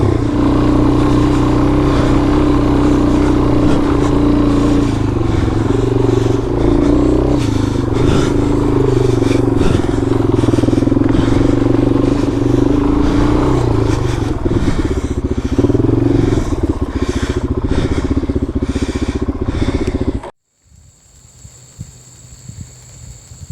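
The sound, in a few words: KTM 300 and DRZ400 dirt bikes riding trail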